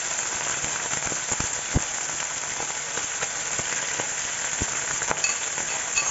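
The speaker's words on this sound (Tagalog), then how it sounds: "Kaya kailangan i-prito ang tuna para ito ay maging crispy." Tuna sizzles loudly in hot oil for sisig, a dense, steady crackle with scattered sharp pops from spattering, close and continuous with no talk.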